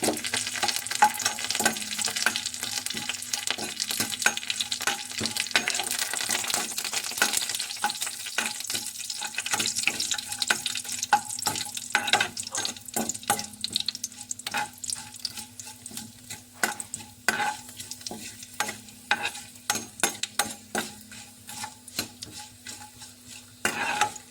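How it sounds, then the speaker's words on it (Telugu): Curry leaves, cashews and dried red chillies frying in oil for carrot rice, a loud sizzle that settles into spluttering crackles, with repeated sharp scrapes and clinks of a spoon stirring in the pan. "ఇప్పుడైతే కొంచెం అంత కరివేపాకు నాలుగు జీడిపప్పులు అయితే వేసుకుంటున్నాను"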